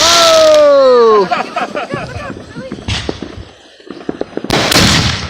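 Fireworks exploding outdoors, with a rising whistling launch followed by a series of sharp bangs and crackles, near and loud, while people shout and talk over them.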